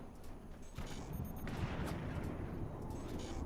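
Howitzer artillery fire in a competitive video game match sounds as a run of heavy booms and crackling blasts that overlap into a dense, rumbling barrage.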